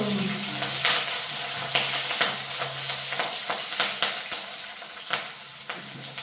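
Chillies frying in hot oil in a pan give a steady, close sizzle, with stirring scrapes and taps repeating throughout and no talk.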